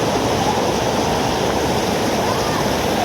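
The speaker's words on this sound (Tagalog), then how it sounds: "Malakas ang tubig dito." Strong rushing water of the overflowing Wang Chung stream in Hong Kong, a loud, steady, close roar of churning current with no pauses.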